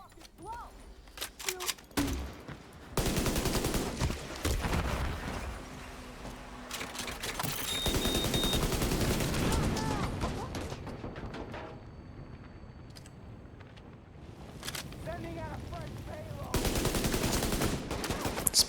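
Mk 16 rifle fire in a first-person shooter game, long sustained bursts of rapid shots over several seconds, separated by short pauses, loud and close, with a voice talking at the start.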